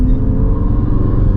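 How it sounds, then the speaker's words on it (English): A 2018 MK3 Ford Focus RS with a Sports Cat Milltek exhaust, warm after a long drive, gives a loud, close, steady low rumble with a rough pulsing throb, heard briefly on its own. "The exhaust sounds really nice."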